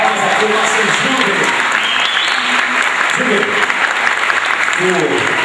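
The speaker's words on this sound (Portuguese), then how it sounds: "uma salva de palmas aqui, o nosso Júlio." An audience at a student freshman festival applauds steadily and loudly throughout, a dense unbroken clapping with faint voices mixed in.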